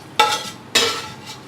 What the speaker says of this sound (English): now we're going to add our veggies